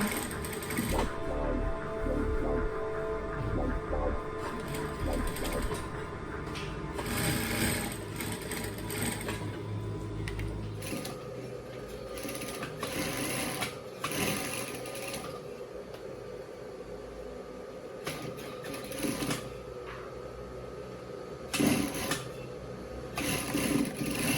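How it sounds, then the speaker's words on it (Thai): A sewing machine stitches the edges of a homemade fabric face-mask holder, its fast, continuous mechanical whirring close and steady, with brief pauses and shifts in speed. "เราก็เอามาเย็บริมๆนะคะ"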